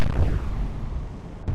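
Naval gunfire explosion in the naval warfare video game Atlantic Fleet: one heavy boom that decays into a rumbling tail, loud and close, with no voices.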